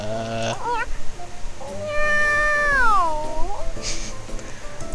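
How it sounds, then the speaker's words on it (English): A cat meows loudly and close, giving a short cry followed by a long, drawn-out caterwauling meow that bends downward, with other faint noises around it and no speech. "it's just a cat, huh? Just a troublesome cat."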